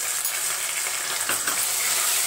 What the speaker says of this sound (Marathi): इथे आपण 2 मिनिटं परतून घेऊया